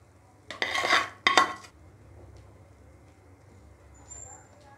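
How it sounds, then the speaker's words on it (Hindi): Two short bursts of metal scraping as a spatula spreads peanut and jaggery chikki on a plate, close and fairly loud, followed by a quiet background. "इसी पलटे की सहायता से ऐसे हम फैला देंगे इसे अच्छे से"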